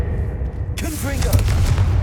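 Confringo blasting spell explosion in Hogwarts Legacy, a sudden loud burst that cuts in sharply and sustains as a rough, noisy rumble over an ambient low hum, with a brief voice call.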